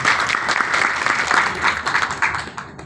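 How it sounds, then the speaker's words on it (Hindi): Enthusiastic applause from an audience at a business plan presentation, dense steady clapping at fairly loud level that holds throughout and thins slightly toward the end. "एक बार जोरदार तालियां सबके लिए।"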